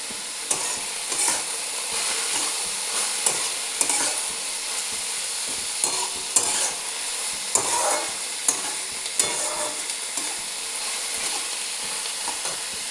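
Onion frying in oil with sugar sizzles steadily in a pan while a utensil stirs it, with periodic scraping knocks over a constant hiss, close and prominent with no talking.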